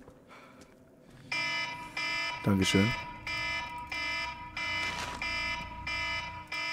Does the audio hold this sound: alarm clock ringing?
yes